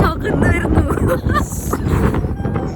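Gusty wind off the sea buffets the microphone on a cold beach with a low, rough rumble while people talk close by.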